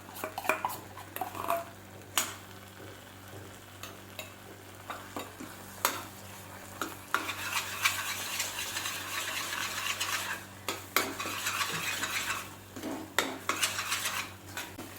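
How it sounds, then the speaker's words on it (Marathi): A spoon stirring a yogurt and spice mix into a paneer curry in a metal pan, with repeated scraping clinks and soft sizzling over a steady background hum, close and moderately loud. "हे सगळे मसाले आपण ह्यात असं टाकून घेणार"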